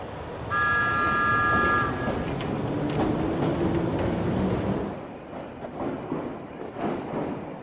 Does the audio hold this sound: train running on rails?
yes